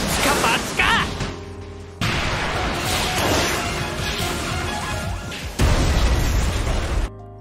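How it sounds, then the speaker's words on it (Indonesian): Gunfire and sharp blasts in an animated fight crack out in bursts, mixed with whooshes and a voice talking over the action. "Ichika jadi terpojok dengan tembakan brutal dari Cecilia."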